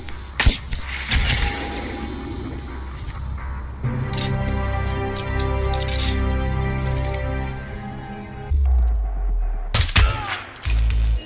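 Gunfire in the Hitman video game: several sharp, loud shots early on, then a sustained, layered mechanical din with tonal hum, followed by further sharp bursts near the end, with no talk.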